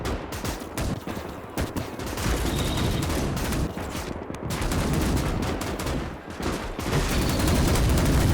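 Heavy gunfire from a mech in the Winds of Iron 1920+ mod, with Polish and Rusviet mechs in battle: dense, continuous bursts of shots and booms, loud and sustained throughout with no talk.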